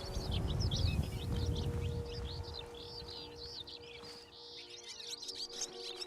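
Twittering birdsong in the Skyrim video game plays as a run of quick, high chirps. The calls are moderately close over a low background rumble that fades partway through.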